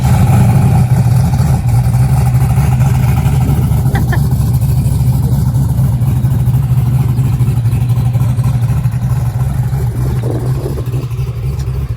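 Turbocharged Ford Fox body car engine running loud and close on the street, a dense, continuous low rumble with mild swells in revs throughout.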